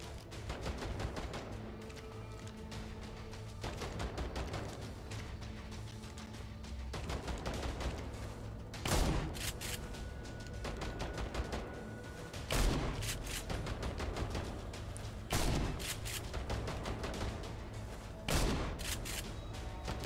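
Repeated shotgun blasts in the dieselpunk video game INSOMNIA: The Ark, loud and close, spaced a few seconds apart over a steady game soundscape with more scattered gunfire.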